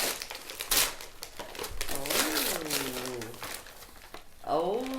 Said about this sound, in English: hers is wrapped up in Christmas paper, which is exciting because then I have to actually unwrap it